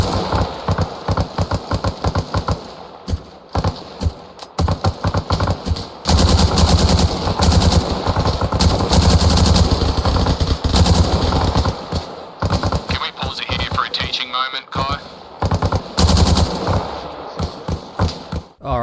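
Automatic gunfire in the military shooter game ARMA Reforger, with loud bursts of rapid fire close by, short pauses between them, and dense overlapping volleys.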